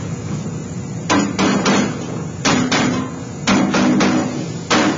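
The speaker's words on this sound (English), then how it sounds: "So we would finish hammering over our Pittsburgh locks." Hammer blows fold over Pittsburgh lock seams on a sheet metal duct plenum, sharp ringing metallic strikes in quick bursts of two or three with short pauses, loud and close with no talking.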